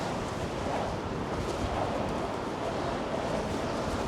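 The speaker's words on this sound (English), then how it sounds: "it's extremely windy today" Strong wind blows across a seaside promenade, a loud, steady roar of gusts buffeting the microphone with no break and no voices.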